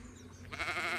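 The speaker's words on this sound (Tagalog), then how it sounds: "Gano'n na yung kambing." A goat bleats in a foggy outdoor setting, a single short, wavering nasal cry that rises out of quiet background noise and holds briefly.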